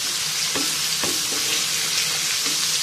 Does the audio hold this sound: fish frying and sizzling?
yes